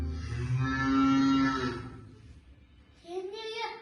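A cow lets out a long, loud moo in a children's fairy-tale scene set on green grass, followed after a short pause by a second, higher bellowing call, with no talk over either.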